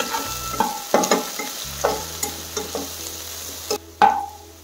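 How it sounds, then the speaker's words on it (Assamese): Ginger-garlic paste fries with onion in a pan for an Assamese fish curry, sizzling steadily while a spoon scrapes and stirs in irregular clacks and scuffs. "এইখিনি অকণমান ভজা যোৱাকৈ ভাজিম।"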